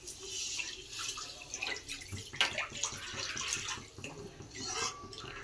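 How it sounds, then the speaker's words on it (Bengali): Water poured into a pot of chicken curry cooked with young jackfruit, a quiet uneven run of trickling and splashing with small drips. "জল দাও, জল দাও, জল দিয়ে করে দেবে"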